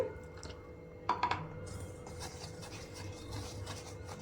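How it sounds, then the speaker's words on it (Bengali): A spoon stirs biscuit cake batter made with milk in a bowl, giving a few sharp clinks against the side followed by steady wet rubbing and sloshing, close and fairly quiet. "এবার ভালো করে নাড়াচাড়া করে ব্যাটারটা তৈরি করে নিতে হবে"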